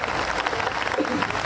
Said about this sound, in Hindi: आप लोग जोरदार तालियां बजाइए।